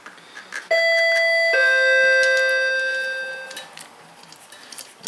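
An electronic doorbell plays a loud two-note ding-dong chime close by. The tones ring out and slowly fade over a few seconds, followed by faint ticking and clicks.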